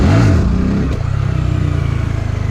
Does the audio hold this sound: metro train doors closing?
no